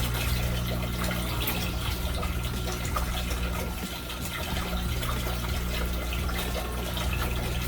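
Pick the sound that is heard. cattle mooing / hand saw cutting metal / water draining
water draining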